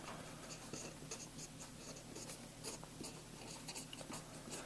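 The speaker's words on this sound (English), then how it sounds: "so maybe I'll write that here" Faint scratchy writing strokes during a math lesson run in short repeated scrapes beneath a constant hiss, with no voice present.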